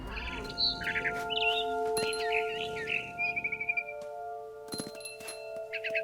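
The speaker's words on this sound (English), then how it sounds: "Then I heard chirping outside my window. It was a barn swallow going back to her nest." A barn swallow chirps in the video game What Remains of Edith Finch. Short, bright bursts of chirping come in clusters over a sustained, tonal musical backdrop, with a quiet pause in the middle.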